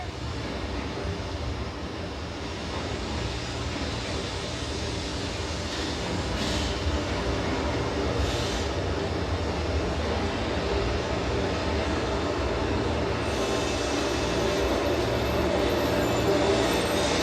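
Train ride with a continuous low rumble and rolling hum of the cars, steady and moderately loud, with a few brief higher whooshes along the way.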